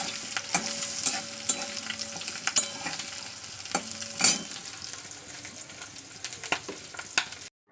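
An egg frying in a pan at home, with a continuous sizzle and sharp spatula scrapes and taps recurring throughout, close and clear, ending abruptly.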